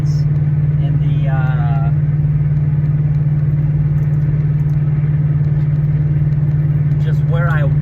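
A car drives along with a steady, loud low engine drone and road rumble that holds constant throughout, while someone speaks intermittently over it.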